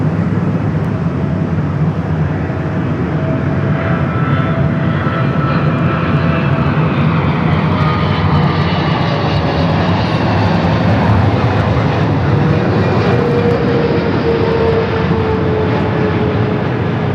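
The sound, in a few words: Singapore Airlines Boeing 777-300ER landing at LAX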